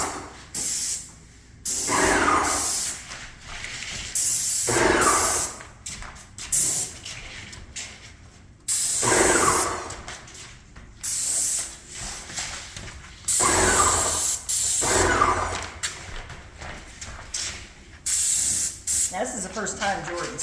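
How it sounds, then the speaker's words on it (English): A handheld sprayer spraying in repeated bursts of loud hiss, each lasting a second or two with short gaps between, fairly close, with people talking around them. "Get the sprayer."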